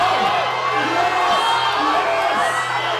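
Loud crowd at a university weightlifting championship cheering and whooping continuously, with shouts and yells rising over a dense roar as a lifter attempts her lift.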